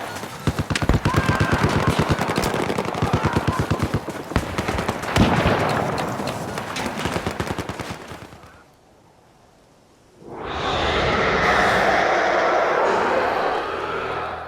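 Battlefield 4 background battle soundscape: rapid machine-gun bursts and scattered shots rattle for about eight seconds, fall to near silence, then a broad rumbling wall of distant combat noise swells back in.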